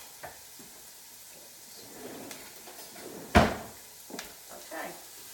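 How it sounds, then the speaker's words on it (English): Vegetables for pasta puttanesca cook in a hot pan, giving a soft, steady sizzle with a few scrapes and knocks of stirring, one sharp clatter midway, and faint kitchen noise in between. "I'm going to stir those and let them cook until they're fragrant and they get translucent."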